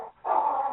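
A dog gives a single short, fairly close bark or yelp after a brief quiet moment.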